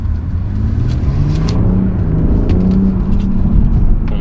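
A BMW M140i exhaust burbles and rumbles from inside the car, a steady low engine drone with faint crackles and pops over it, loud and continuous without speech.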